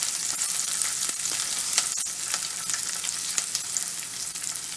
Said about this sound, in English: Alright, so that is frying up nicely.